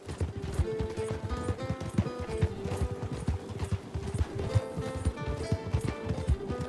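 Horse hooves clip-clop steadily in Red Dead Redemption 2, a continuous rhythmic trot mixed under a busy layer of game music, with no voices.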